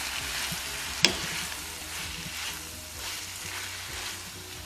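Izote flower mixture sizzles in a frying pan while being stirred, a steady close hiss with soft scraping and one sharp knock of the utensil against the pan.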